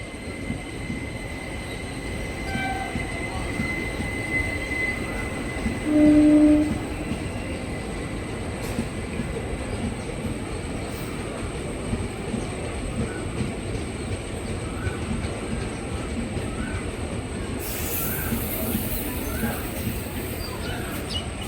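A stationary passenger train at Murshidabad Junction station rumbles steadily with a low hum and distant mechanical noise, voices faintly in the background, and a brief horn-like tone partway through.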